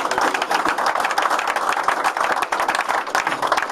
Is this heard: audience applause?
yes